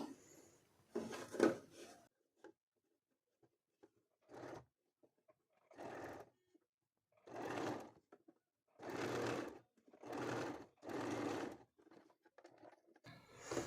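A sewing machine stitches a kurti in repeated short bursts of whirring, each lasting a second or two with pauses between, close and steady in tone.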